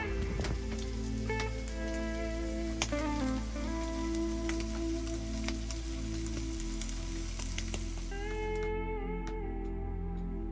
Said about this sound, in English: I'm getting rain down here